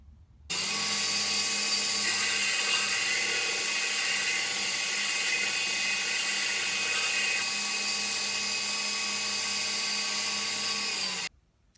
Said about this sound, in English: I'm going to go ahead and just try to flatten that out on the grinder before I get any further.